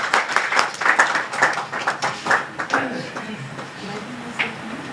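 A dinner audience claps in a brisk, dense burst that fades into scattered claps. Faint voices and a low hum remain underneath as it trails off.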